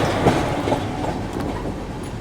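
Mumbai Howrah Duronto express rolling along the tracks, a steady loud rumble with rhythmic wheel clatter and a few sharper clicks, continuous throughout.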